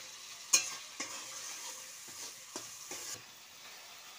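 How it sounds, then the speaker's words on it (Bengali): Cashew paste being stirred in a cooking pan, a few sharp utensil scrapes and clacks standing out over a soft, steady sizzle, close and fairly quiet. "এবার ভালো করে নাড়াচাড়া করে নেব।"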